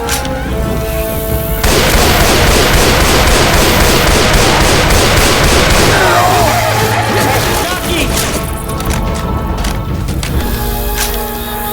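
Rapid gunfire and heavy booms from the video game Left 4 Dead 2 in versus mode, loud and dense bursts of shots with game music and character voices talking over the action.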